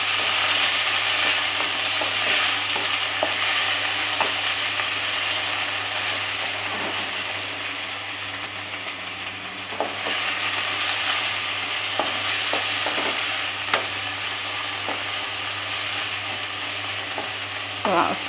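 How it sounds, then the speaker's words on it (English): Steady sizzling of tomatoes frying in a pan for dal fry, with occasional scrapes and clinks of a spoon stirring, close and continuous. "Now I am adding the tomatoes."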